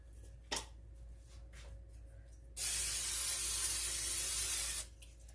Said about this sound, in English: we're going to go ahead and spray this pan lightly